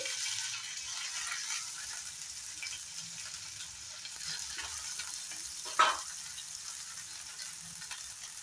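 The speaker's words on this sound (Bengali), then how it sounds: "ঘিয়ের মধ্যে আমি একটু আদা কেটে রেখেছিলাম, আদাটা ফ্রাই করে নেব।" Sliced ginger sizzles in hot ghee in a pan, a steady close hiss of frying with a brief stir or clatter partway through.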